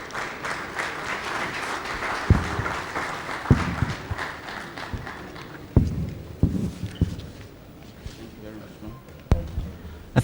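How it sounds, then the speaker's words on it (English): Applause from an audience at a national water resources council meeting, a loose patter of clapping that fades unevenly, with scattered louder claps and knocks heard nearby. "I think she deserves a better round of applause"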